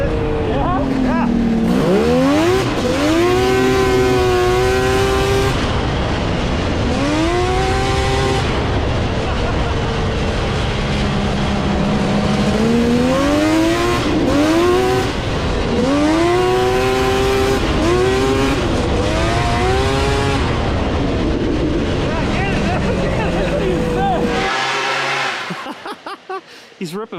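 A drift car on a track, its engine screaming through rising and falling revs as it slides, loud and close for nearly half a minute, with a few voices talking over it before it cuts off abruptly.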